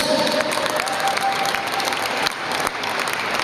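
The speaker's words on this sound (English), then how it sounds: "A big round of applause for Dundee Dragons!" Crowd applause at a wheelchair rugby cup final, greeting the runners-up team; sustained, dense clapping filling an indoor sports hall, steady and loud throughout with no voices standing out.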